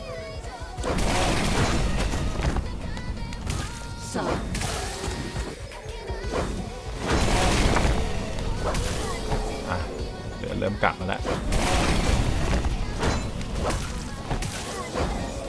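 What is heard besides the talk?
explosions in video game Devil Hunter zombie raid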